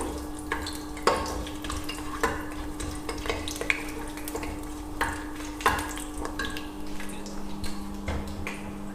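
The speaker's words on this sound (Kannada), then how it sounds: "ಸ್ವಲ್ಪ ಘಮ ಬರೋವರೆಗೂ ಈ ಥರ ಉರಿಬೇಕು" Cardamom and whole spices fry in a pan for mutton biryani, a continuous sizzle broken by repeated clinks and scrapes of stirring, with a faint steady hum behind.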